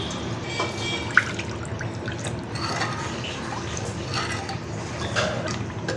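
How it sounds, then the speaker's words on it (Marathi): Water pours and splashes steadily into a pan of prawn masala, with liquid bubbling and dripping throughout and a voice talking softly underneath. "त्यामध्ये मी आता आणखीन पाणी घालते"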